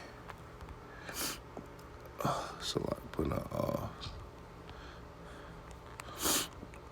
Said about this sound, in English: So like if I'm sniffling, man, I got a little cold